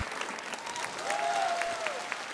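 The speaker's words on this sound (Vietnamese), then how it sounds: "Với một tràng pháo tay cho hai bạn" A Vietnamese TV talent show studio audience claps for two contestants, a steady fairly loud patter of applause with a voice or tone gliding over it partway through.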